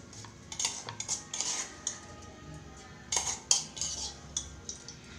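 Soaked barnyard millet rice spooned into a mixer grinder jar, heard as a run of light clinks and rattling clatters of spoon against the jar, coming in short bursts close by with no talking.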